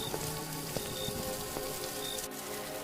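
Steady rain falling at night, a continuous even patter on surfaces with a few scattered heavier drops, loud and close throughout with no voices.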